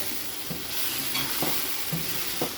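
Tomato paste from two tomatoes frying in a pan, a soft steady sizzle with a few scraping stirs of a spoon at regular intervals, quiet and close.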